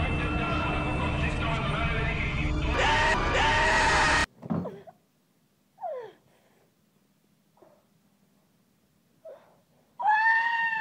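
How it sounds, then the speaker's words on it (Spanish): Screams and gasps from a horror film trailer: a loud dense stretch of noise ends abruptly, followed by short separate cries and whimpers in near silence, then a shrill scream at the end. "¡Se escuchan gritos!"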